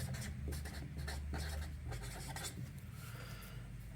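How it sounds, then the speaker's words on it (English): A pen writes a passphrase by hand on paper, a steady close scratching with brief stroke bursts that runs the whole time, quiet and alone. "We're gonna write down"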